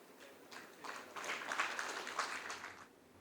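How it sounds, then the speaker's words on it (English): Audience applause at a talk on trade and development, a soft wash of clapping that builds to a fuller burst in the middle and then fades away. "Please give a round of applause as Ms.Anna joins us virtually"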